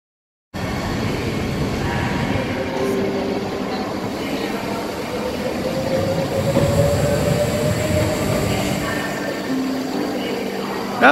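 A train rolls through a busy Swiss railway station, with a loud rumble of wagons, squealing wheels and clattering rails, plus a rising metallic whine and station bustle heard close by throughout.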